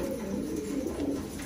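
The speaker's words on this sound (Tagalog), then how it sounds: "Itong mga kalapati, mga kalapatids" Pigeons being shipped from Singapore to Taiwan coo in a soft, continuous low murmur, close by and steady with no pauses.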